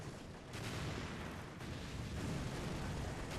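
Distant artillery barrages in the wartime strategy game Europe in Ruins rumble as a continuous low, quiet wash of overlapping blasts.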